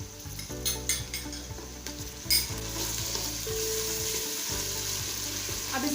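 Ginger garlic paste sizzles and fries steadily in a pan while daal mash is being cooked, with a spoon scraping and stirring through it and occasional light clinks of metal on the pan.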